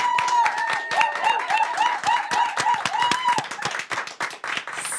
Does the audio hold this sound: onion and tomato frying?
no